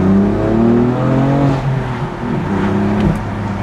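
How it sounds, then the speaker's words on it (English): A 2020 BMW M4 with manual gearbox revs its exhaust, a loud, close engine note whose pitch climbs and drops through several surges over a steady rumble, with no talking. "The sound of the exhaust in this car really makes the experience"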